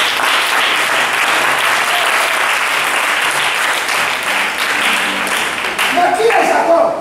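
A church congregation bursts into sustained applause, dense and loud, filling the space for several seconds while a voice carries on speaking over the clapping.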